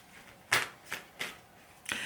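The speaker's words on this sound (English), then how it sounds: "I'm going to just shuffle again to get the 3rd card." Deck of cards being shuffled during a tarot-style reading, four quick riffling bursts spaced across about two seconds, close and crisp against a quiet room with no talking.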